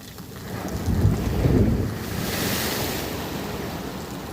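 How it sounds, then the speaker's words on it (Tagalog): Strong ocean waves crash and roar nearby on the beach at Baler, one big surge building and then washing out in a broad, loud hiss. "Lakas ng alon kasi"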